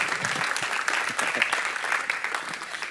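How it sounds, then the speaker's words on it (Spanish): A church congregation claps in warm, sustained applause, many hands patting steadily at moderate distance and the sound fading only slightly toward the end. "Un aplauso a Yailin y a Rogelio."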